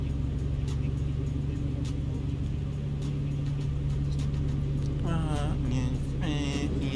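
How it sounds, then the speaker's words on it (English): Truck engine in American Truck Simulator, a loud steady low drone running throughout, joined near the end by rising and falling tonal sweeps as the engine note shifts. "I really hope the truck engine again is not too loud."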